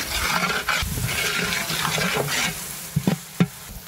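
Ginger garlic paste fries in a pan for chicken biryani while a spoon stirs it, producing loud sizzling with wet scraping sweeps and a few sharp knocks near the end.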